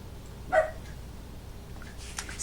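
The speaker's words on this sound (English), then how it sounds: "He's decided he wants to bark now." A small dog gives one short, sharp bark near a door indoors, then stays mostly quiet apart from a faint later yip.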